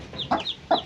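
Chickens and small chicks cluck in two quick, close bursts over about a second, with faint high cheeping between them and no talking.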